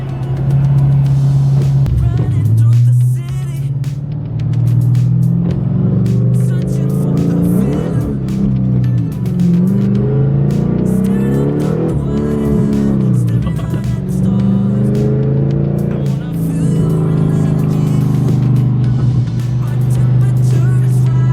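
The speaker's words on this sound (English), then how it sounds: "I'm in 6th gear, cruising at like about 2 grand, doing 70 miles per hour." Pontiac G8 GT with swapped Camaro 3.27 gears cruising in sixth gear at about 2,000 rpm and 70 mph, a steady low engine drone with road noise throughout, loud and continuous from the cabin.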